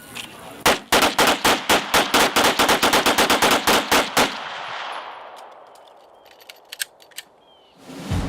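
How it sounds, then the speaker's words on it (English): Military police soldiers firing M17 Sig Sauer 9mm handguns on a range: a loud, rapid string of about fifteen sharp shots close by, ending abruptly into ringing quiet with faint distant pops and clicks. "Military police soldiers trained to fire the M17 Sig Sauer 9mm handgun"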